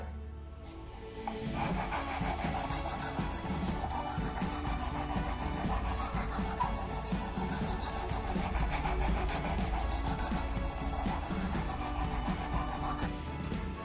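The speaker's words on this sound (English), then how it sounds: "I'm probably going to do this about 40 times until I've got a good edge back onto the knife." A kitchen knife is drawn repeatedly through a knife sharpener, giving a close, continuous scraping and rasping with a rapid, rhythmic grind that carries on throughout.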